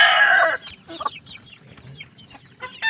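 A two-month-old white rooster lets out a loud, close call and then soft, scattered clucks and small chirps in a coop during feeding.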